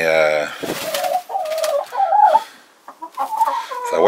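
Polish rooster vocalizing close by in a series of harmonic calls and clucks, several bursts with short gaps over about four seconds, fairly loud with no talking.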